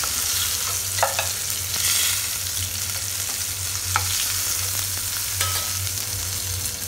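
Hot oil sizzles steadily as food fries in a pan for methi chicken, joined by a few sharp clicks and scrapes of stirring and a low steady hum underneath.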